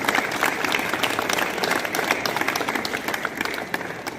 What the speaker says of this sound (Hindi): एक बार जोरदार तालियां बच्चों के लिए।